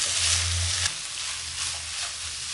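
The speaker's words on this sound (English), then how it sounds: "I'm gonna add in the peas. And I'm gonna stir that." Peas stirred in a hot, nearly dry pan, a loud close sizzle with scraping strokes that eases slightly after the first second.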